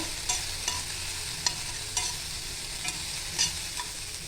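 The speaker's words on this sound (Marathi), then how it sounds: "आता हे आपण भाजी टाकतोय शिजून घेतोय" Chopped vegetables sizzle steadily in a pan for a rava burger filling, a dense continuous hiss broken by a few sharp scrapes and taps of a stirring spoon.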